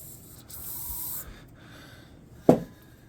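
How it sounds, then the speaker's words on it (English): Short aerosol spray burst of lubricant squirted down inside a rare blue Homelite EZ chainsaw with dirty threads, a brief hiss early on, then a sharp close puff near the end, alone. "I'll spray a bunch of lube down inside."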